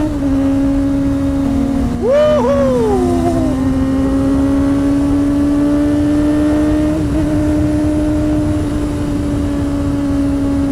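A steady engine drone rises in pitch as a motorbike picks up speed, with a brief higher rev swell early on, heard from up close.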